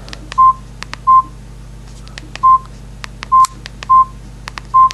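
Samsung E1200 mobile phone keypad tones: short electronic beeps repeating in a steady pattern, each with a soft button click, close and clear over a low hum.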